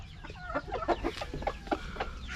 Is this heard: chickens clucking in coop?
yes